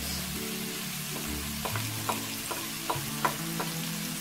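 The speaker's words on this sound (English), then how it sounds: "I've got some oil heating up in this pan, and to that I'm going to add the onions and the chilli" Onions and chilli with salt dropped into hot oil in a pan sizzle steadily, with a faint background hum and a few light taps and scrapes from stirring, close and fairly quiet.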